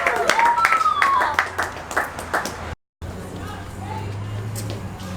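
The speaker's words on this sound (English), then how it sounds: "Give him a round of applause." An audience breaks into scattered, sharp clapping with a whistle at an evening event. The sound cuts out briefly, then someone speaks over a low hum.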